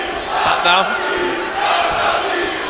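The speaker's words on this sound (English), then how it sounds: "Crowd going absolutely wild" A packed crowd at the Shinobi War 6 MMA fight event roars loudly and continuously, a dense wall of cheering and shouting with a commentator's voice running over it.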